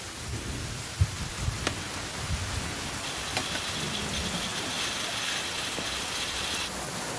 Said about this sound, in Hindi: हाँ यहाँ पर बारिश हो रही है